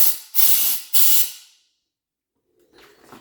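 Water sprays out of an Avalon cold water cooler dispenser in two loud hissing bursts, each about half a second, followed by silence and then a fainter splashing spray.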